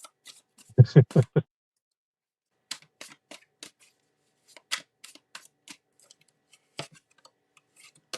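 A deck of tarot cards is shuffled in three quick, close riffling bursts, followed by scattered light taps and clicks of handled cards in a quiet room.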